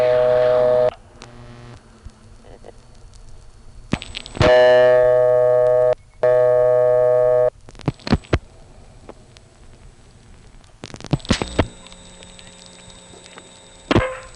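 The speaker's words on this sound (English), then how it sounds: "Now I'll dial it." A telephone number dialed on a phone line sounds as sequences of clear tonal beeps and steady line tones, broken by silences and sharp clicks, close and distinct with no voices.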